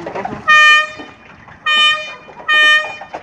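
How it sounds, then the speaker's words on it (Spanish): A churro vendor's vehicle horn sounding three loud, bright, drawn-out toots close by, with quiet background noise between them. "Tiene una bocina, estaba escuchando bien, a ver."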